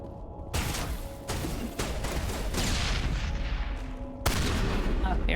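Gunfire from a shotgun in a video game plays as a dense, loud barrage of overlapping blasts and booms, with a fresh heavy burst near the end.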